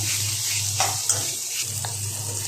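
Onions sauté with salt in a pan for poori masala, giving a steady close sizzle broken by a few soft stirring scrapes.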